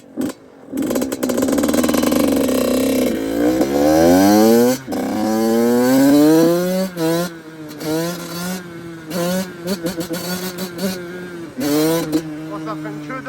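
A two-stroke 85 motorcycle engine revs and bogs while being ridden, its pitch climbing and falling in repeated loud, buzzy sweeps with brief drops between throttle bursts.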